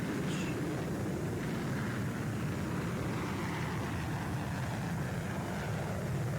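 A steady, broad roar of an airplane flying over an airbase in the PTFS video game, sounding constant and moderately faint, with no talk.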